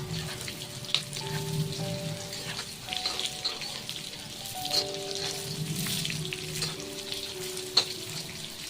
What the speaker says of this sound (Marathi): सगळ्या बाजूने मस्त तेलामध्ये ना परतवून घ्यायचे.